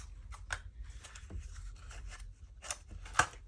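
Scissors snip paper in a quiet room during junk journal crafting, giving a few short, sharp cuts spread over about three seconds with soft rustling between them.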